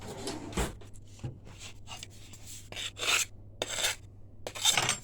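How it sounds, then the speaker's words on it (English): A knife scrapes and rasps in short, uneven strokes, trimming the edges of yeast-free pizza dough against a metal tin, close and crisp with quiet pauses between cuts. "If you want, you can trim the edges, which I'm going to just quickly do."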